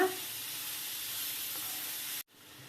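Half a kilo of grated carrot sizzles in ghee in a pan, a steady close frying hiss that holds evenly for about two seconds before cutting off abruptly, leaving quiet room tone.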